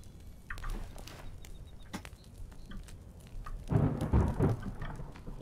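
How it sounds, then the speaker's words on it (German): Rain patters steadily through a thunderstorm in the survival game The Forest, and a heavy rumble of thunder swells in the later part of the clip. "Der gewittert schon wieder."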